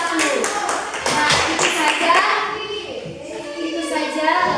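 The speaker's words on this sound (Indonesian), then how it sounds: "tepuk tangan untuk kelompok 1" Classroom students applaud for a presenting group in a teaching simulation, a burst of close, scattered hand claps over a few seconds mixed with children's chatter and voices.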